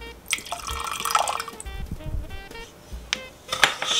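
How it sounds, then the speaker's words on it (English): Vinegar poured into a pot already holding water for a popcorn ball syrup, a splashing, dripping liquid stream with a few sharp clinks, close and moderately loud with no talking. "We're going to add our vinegar."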